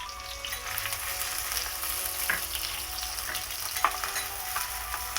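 Crushed shallots sizzle steadily in hot oil for a fish curry with lime leaves, a continuous close frying hiss with a couple of brief clinks of a utensil partway through.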